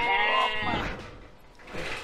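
Sheep bleating at a village farm while feeding on fresh-cut grass: a near, wavering cry in the first half-second, then softer animal sounds and rustling, with no talk.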